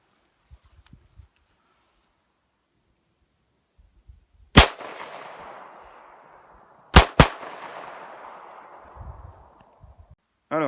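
A Kimar PK4 9mm blank-firing replica of a Beretta PX4 pistol fires three loud sharp shots, one alone and then a close pair, each ringing out in a long decaying echo, with faint handling noises between.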